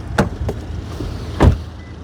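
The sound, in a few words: 2026 Subaru Outback Touring XT front door closing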